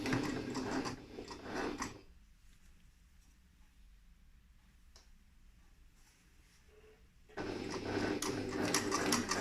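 A sewing machine back stitches while inserting an invisible zip, running loud at the start and again at the end, with a quieter, faint mechanical stretch in between.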